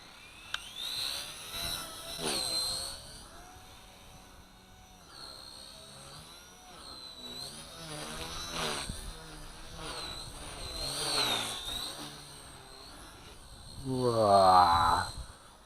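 A small K110 RC helicopter fitted with K123 blades whines in flight, its high motor tone rising and falling as the throttle shifts, with rotor hum, close by, and a person speaking briefly.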